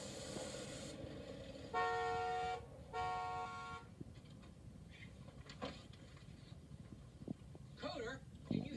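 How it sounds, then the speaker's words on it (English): Two short car horn honks sound in quick succession, moderately loud, amid outdoor noise, with a few faint later toots and brief speech. "I was honking and honking for you"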